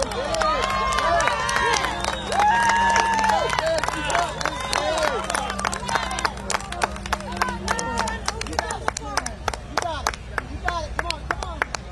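A crowd cheers and claps on soldiers finishing their last burpees at an Army birthday parade in Washington, with whoops, whistles and rapid scattered clapping, while a voice talks over the noise.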